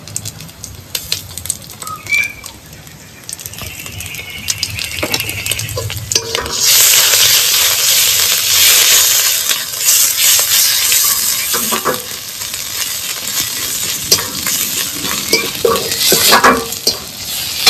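Ginger paste and ground green chili-coriander paste hit hot oil in a pan, starting with scattered clinks and stirring, then swelling into a loud, dense sizzle that persists with intermittent spoon scrapes against the pan.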